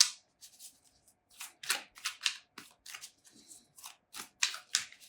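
Rapid bursts of riffling tarot cards, a series of short crisp shuffles with brief pauses between them, close up and without talk.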